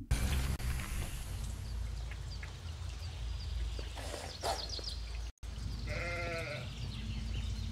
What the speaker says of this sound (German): da haben wir direkt ein Schaf